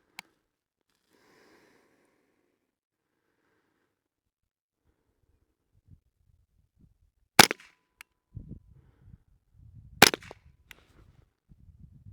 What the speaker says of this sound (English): Then I'm going to fire 3 rounds into the middle target, and then I'm going to fire 4 rounds into the right side target.